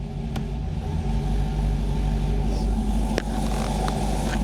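LTx-swapped Trans Am with a 6L80e automatic transmission pulls away in first gear, its V8 holding a steady low rumble up close with a few faint clicks over the drone.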